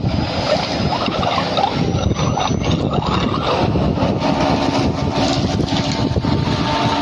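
A 1.5 HP electric water pump motor drives a steady, loud flow of open water from a pipe, a continuous rushing hiss with a mechanical hum beneath it, unbroken from start to end.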